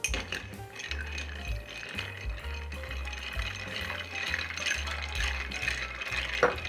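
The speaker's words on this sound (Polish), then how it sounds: "No i mieszam koktajl." A cocktail is stirred with ice in a glass, producing a steady rattling clink of cubes against the sides, close and fairly quiet, running continuously with small rhythmic bursts.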